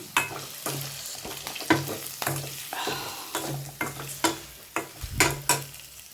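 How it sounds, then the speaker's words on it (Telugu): Garlic paste and chili powder are stirred in a frying pan for a chickpea and potato kurma, with rhythmic scraping strokes of a spoon over a soft continuous sizzle, close and clear with no talk. "వెల్లుల్లి పేస్ట్ కారం ఇవన్నీ బాగా కలిపేసి"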